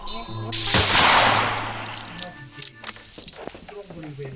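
Gunfire in the Roblox western game Westbound, with a loud burst of shots and impacts early on, followed by scattered sharper cracks and clanks through the rest of the moment.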